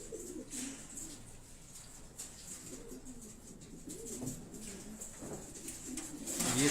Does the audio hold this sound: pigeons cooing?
yes